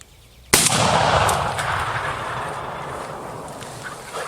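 A single loud shotgun blast at a turkey on a public-land hunt, sharp and close, its report rolling and fading over several seconds against a quiet outdoor background.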